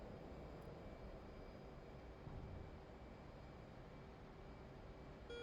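Jet engine noise from an F/A-18C at full afterburner in the DCS flight simulator, a faint, steady broadband roar with a low hum that holds evenly throughout, no talking.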